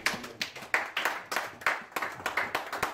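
A church congregation claps along in a steady rhythmic beat, many hands sounding close and moderately loud with no talking over it.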